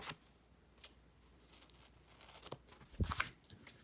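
Paper being cut with scissors for a planner layout, a few soft snips and a louder crisp rustling cut near the end, close and quiet with no talking.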